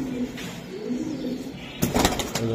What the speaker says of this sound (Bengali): এটা কি কবুতর? গররা ভাই, এটা ছাড়াছাড়ি লাইনের গররা দেখছেন